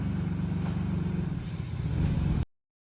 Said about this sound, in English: So we are out driving Imran's E30